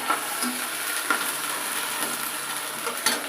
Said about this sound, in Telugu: అల్లం వెల్లుల్లి పేస్ట్ వేసాం కదా, ఇది పచ్చివాసన వచ్చేంత వరకు కొంచెం కలుపుకుందామా